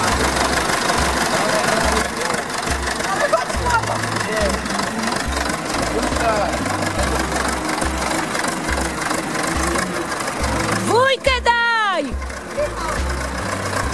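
A tractor engine idles close by with a steady low rhythmic chugging throughout, and a short burst of squeaky rising tones cuts in near the end.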